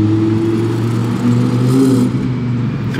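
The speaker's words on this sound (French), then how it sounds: "on a le bruit des valves hyper métalliques" Sports car exhaust on a Monaco street, likely a Porsche 911 among Ferraris and an Audi R8, with a loud steady metallic drone from the open exhaust valves that swells slightly midway and holds without a break.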